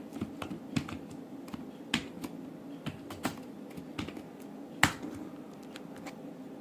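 Computer keyboard keys tapped in quick irregular bursts while entering a sentence in a word processor, crisp clicks close up against a quiet room, with no one talking.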